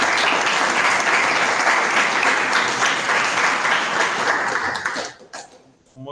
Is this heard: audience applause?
yes